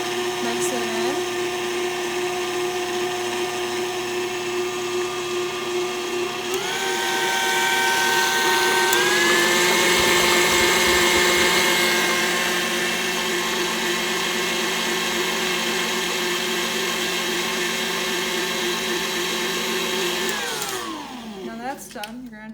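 An electric mixer with a whisk attachment whirs steadily and loudly up close, its pitch rising to a higher speed about a third of the way in, then winding down and stopping at the very end.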